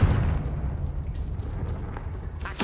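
A Confringo fire spell blasts in the Hogwarts Legacy video game, a loud, deep rumbling boom that rolls on for a couple of seconds before a sharper crackling burst at the end, with no voices.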